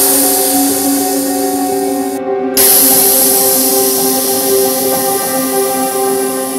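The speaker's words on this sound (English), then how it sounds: "We'll start by removing all the air from the tires." Air hisses steadily and loudly out of an electric scooter tire as it is deflated, a continuous close-up spray with a brief interruption partway through before it resumes.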